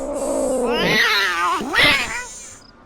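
Suki, a robotic cat in a Nancy Drew game, gives two drawn-out meows, the first long and wavering, the second shorter and rising, close and loud with no talking.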